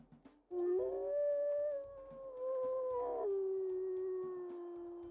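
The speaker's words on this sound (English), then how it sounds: "Oh, that's a very deep howl." A deep, sustained wolf howl rises and holds, breaks briefly, then continues on a lower drawn-out note before fading.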